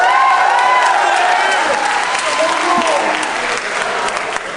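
An audience at a contest applauds and cheers for a contestant, a loud, sustained wash of clapping mixed with crowd voices and a few whoops throughout.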